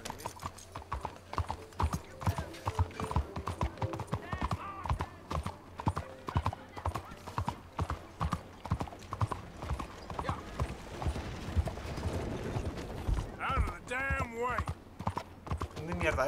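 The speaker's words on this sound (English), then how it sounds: "¡Caballo!" Horse hooves clip-clopping at a steady trot in Red Dead Redemption 2, loud and rhythmic throughout, with game mechanism sounds and a brief whinny near the end.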